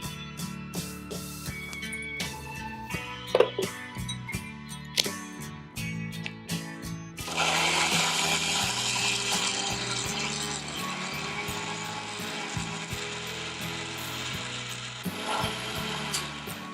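A mixer grinder jar blending white pumpkin for a mocktail: a few scattered clicks and knocks, then a loud, steady whirring grind for about eight seconds before it tapers off.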